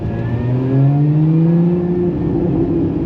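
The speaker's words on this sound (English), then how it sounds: "it does sound good through the exhaust appreciation tunnel" A Lotus Emira engine rumbles and rises in pitch as it accelerates through a tunnel, loud and close, its exhaust note steady and slightly echoing.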